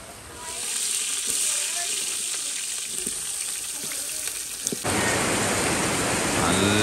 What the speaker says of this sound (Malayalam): നല്ല ശക്തമായ മഴയുണ്ട് കേട്ടോ